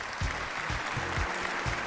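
Studio audience applause at a Pakistan Idol gala round: a short burst of dense clapping with a few low thumps running through it.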